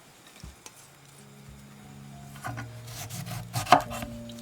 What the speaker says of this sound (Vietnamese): Rồi mình cắt rau răm ra to to như thế này.